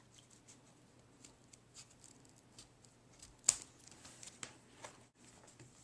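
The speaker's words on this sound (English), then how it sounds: "I'm going to cut off this roll of zipper" Scissors snip through the end of a zipper roll while sewing a zippered coin purse, one sharp close cut standing out over faint quiet handling noises.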